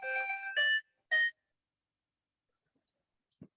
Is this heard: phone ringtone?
yes